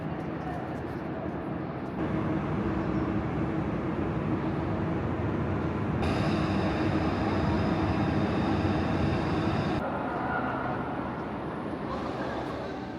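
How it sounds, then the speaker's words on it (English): Steady, loud rumble of a train hauled by an HXD1D electric locomotive on the Guangzhou to Lhasa line, broadband and continuous, with a high electrical whine appearing partway through and fading near the end. "we will be pulled by a Hexie D1D locomotive for the time being."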